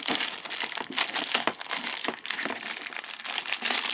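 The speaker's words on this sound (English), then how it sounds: "let's get the plastic off" Plastic wrap being peeled and torn off a Pokemon Hoopa collector lunchbox tin, giving a close, continuous crinkling and crackling with brief tearing bursts throughout.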